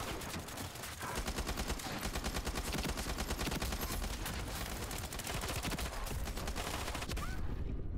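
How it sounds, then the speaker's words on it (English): Dense, continuous video-game gunfire with a Honey Badger rifle, rapid automatic bursts that fill the whole stretch at steady high loudness, no talk over it. "I literally shot the dude straight up."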